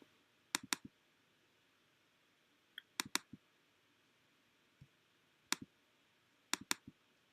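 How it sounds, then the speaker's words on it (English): Computer mouse clicking in quiet surroundings while working in treatment-planning software, a few sharp, close clicks arriving in quick pairs and clusters of double clicks spread across the stretch, with faint extra ticks between them. "if you double click"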